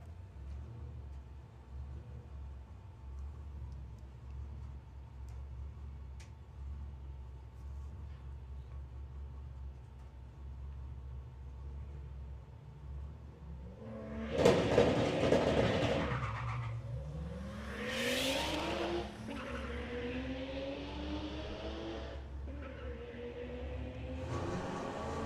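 A Nissan Skyline and a VW Golf race down a drag strip at a sportsman nationals event, a distant low idle hum building to a loud roaring launch and rising engine notes as the cars accelerate away.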